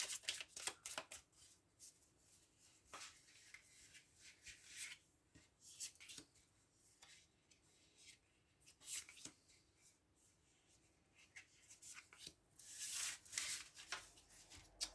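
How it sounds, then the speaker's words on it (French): Tarot cards being shuffled and handled for a reading, with soft repeated riffling and rubbing bursts in a quiet room, no talking. "je vais prendre les 3 cartes"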